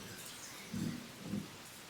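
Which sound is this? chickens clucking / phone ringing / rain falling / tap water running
rain falling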